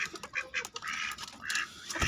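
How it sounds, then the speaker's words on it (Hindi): Ducks let out of their pen on a farm give a burst of close, overlapping quacks, several calls in quick succession over about two seconds. "ये यहाँ से डक्स को भी खोल देते"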